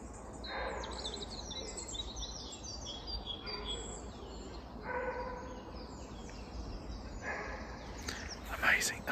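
A nightingale sings in woodland, delivering varied bursts of chirps, trills and whistles that come in separate phrases over steady outdoor background noise, moderately near and fairly clear.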